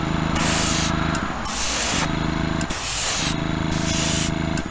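An airbrush lays a light base coat of paint on a custom Chevy Impala body in several close, even hissing passes with short pauses between them.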